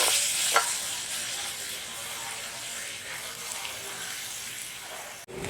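Ingredients sautéed with salt in a pan for goat blood gravy give off a steady, close sizzle with scraping stirring throughout, and no one speaks.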